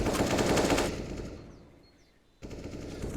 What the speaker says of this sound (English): They're just getting popped up by the SMGs.